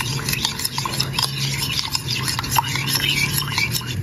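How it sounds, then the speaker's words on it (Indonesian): A spoon stirs egg yolks with warm water in a bowl for pudding, giving quick, irregular scraping clinks close by, with a faint murmuring voice in the background. "Kemudian kita ambil airnya yang masih hangat. Kita aduk-aduk seperti ini."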